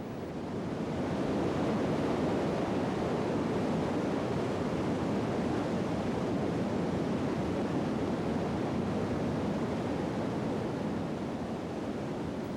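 Niagara's 167-foot Canadian Horseshoe Falls thunders as a steady, broadband roar of plunging water, constant and enveloping with no breaks, heard from a distance.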